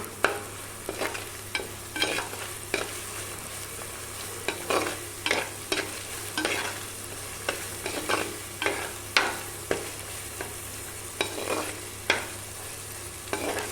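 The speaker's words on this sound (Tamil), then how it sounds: "இது நல்லா இந்த பச்சை வாசனை போகிற அளவுக்கு நல்லா வதக்கி விட்டுக்கலாம்" Ginger garlic paste is sautéed in a pan for crab curry. It sizzles softly and steadily while a spoon scrapes and stirs in regular strokes, close-up with no talking.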